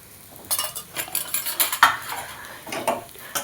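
A spoon stirs okra with red chili powder and a little garam masala in a metal pan, giving close, irregular clinks and scrapes against the pan with brief pauses between strokes.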